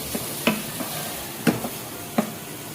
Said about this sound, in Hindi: ये अनियंस को हम थोड़ा सा ब्राउन होने देंगे।